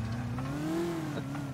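Game car engine in Grand Theft Auto IV, a steady loud hum whose pitch rises and falls once in a slow rev, running throughout with no speech over it.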